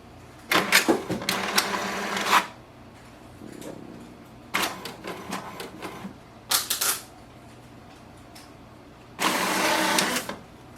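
An HP DeskJet 2955 inkjet printer runs a print job nearby, with bursts of whirring, rattling paper feed and print-head motion separated by short quiet pauses.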